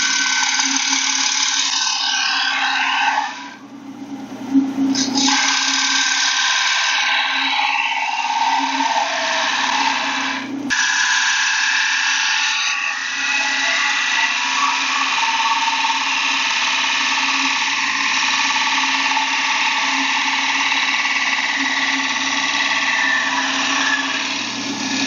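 Wooden penny plate spinning on a lathe while a gouge shapes its edge, giving a steady loud whirring hum with a broad scraping hiss that stays continuous, briefly dipping a couple of times as the tool lifts off.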